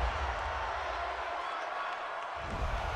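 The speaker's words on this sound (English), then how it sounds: "Well, this crowd does not like that call." A dense football stadium crowd roars steadily at a Bengals–Steelers game after a roughing penalty call, a loud continuous wash of voices with a low rumble.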